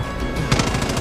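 A mounted machine gun in the shooter Far Cry 5 fires a rapid burst of loud, closely spaced shots, the rattle sharpening midway, with no talk over it.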